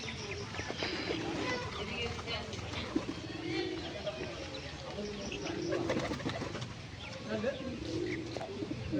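Pigeons coo in repeated throaty phrases, a newly caught bird calling insistently at close range, with a voice talking and calling over the cooing.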